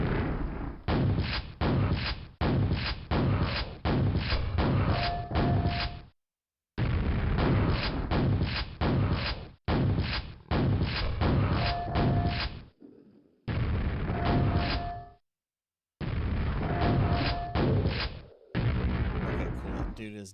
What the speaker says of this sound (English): those grenades are so obnoxious